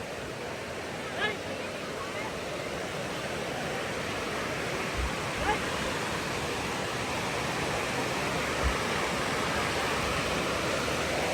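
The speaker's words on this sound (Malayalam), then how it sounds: "നല്ല ഫോഴ്സാണ് വെള്ളത്തിന്" Strong, forceful water rushes at a dam in Lonavla during the monsoon, a loud, steady roar with no break, joined by a few brief knocks.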